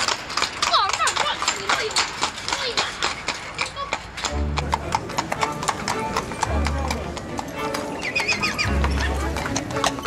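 Horses clip-clop and whinny at a gypsy horse fair, rapid hoof beats on hard ground with loud neighs close by, while a person talks over them.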